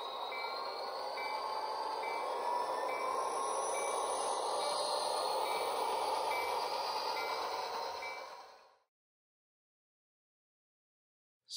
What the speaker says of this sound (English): advance the throttle and our locomotive will roll out